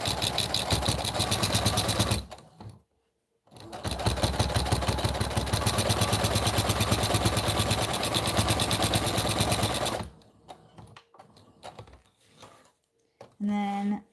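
A home sewing machine stitches a seam, back stitching along the edge in two long, steady whirring runs close up, separated by a short pause and followed by quieter handling sounds and a brief bit of talk.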